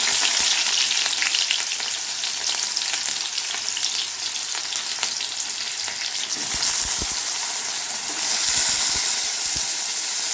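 Onion frying in tempered oil for a bitter gourd dish, a dense bright sizzle close up that swells louder partway through, with a few stirring knocks and no talk.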